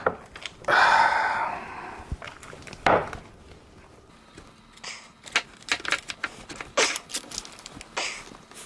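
A knife cuts through a partly frozen vegan chocolate dessert, making a string of crisp chopping knocks and scraping strokes, with a longer grinding scrape near the start.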